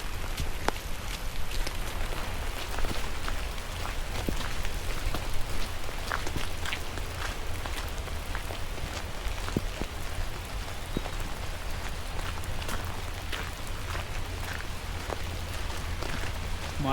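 Steady rain pattering on surfaces along a mountain nature trail at dusk in Banff, with scattered heavier drips popping out of the dense, continuous hiss; no talking.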